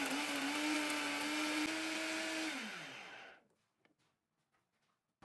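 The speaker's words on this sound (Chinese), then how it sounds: "用破壁机给它打碎" A high-speed blender grinds soaked mung beans with a little water, a loud steady whirring drone for about three seconds before the motor winds down and stops, leaving near silence with faint clicks.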